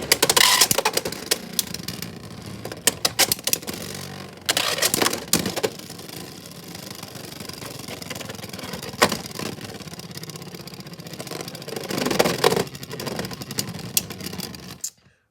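Beyblade tops, including Leoncrest, spin and collide in a stadium, with sharp rattling bursts of clashing over a continuous whirring grind, loud and close throughout.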